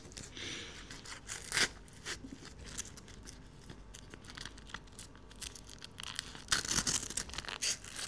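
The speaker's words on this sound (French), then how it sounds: "une fois qu'on l'a bien positionné, on va pouvoir le serrer avec le scratch en bas" A velcro strap is pulled and pressed shut on a boxing helmet, producing rasping, tearing scratches and crinkly rustles in uneven bursts, close up with no talk.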